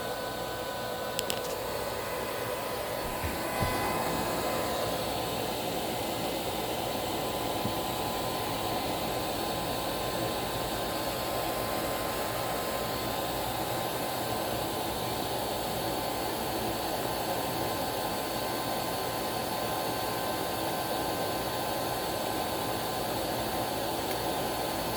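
Hoover CH32008 Hushtone vacuum cleaner running on its low setting: a close, steady whooshing drone that holds unchanged throughout, with a brief click early on and no talking.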